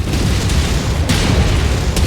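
A giant mech explodes in the MechWarrior 5 video game, a loud, deep rumbling boom that rolls on for about two seconds with crackling bursts on top.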